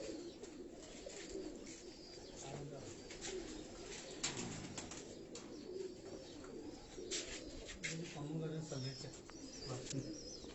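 Pigeons coo in a Karachi pigeon loft, a steady low murmur of cooing running throughout with scattered rustling and sharper background noises, while people talk over it.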